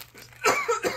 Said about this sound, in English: That was coughing.